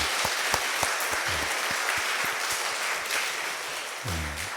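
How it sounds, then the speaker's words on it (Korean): A church congregation at a Sunday service applauds in welcome, a dense, steady roar of many hands clapping close by that lasts the whole stretch, with a faint voice stirring briefly near the end. "우리 박수로 한번 환영했으면"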